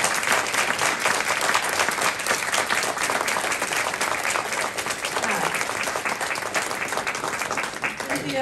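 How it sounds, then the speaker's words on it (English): Audience applause for guests at the close of a panel on Black architects and community agency, a steady, dense wash of clapping from a large crowd that fills the whole stretch at an even level. "Give a round of applause."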